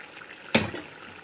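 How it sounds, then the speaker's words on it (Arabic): A quarter cup of water poured onto freekeh cooking in a pot gives one short, soft splash and sizzle that fades within a fraction of a second, with no voices. "اول ما بدا يتشرب الميه كويس بفتح عليه تاني واديله ربع كوبايه ميه"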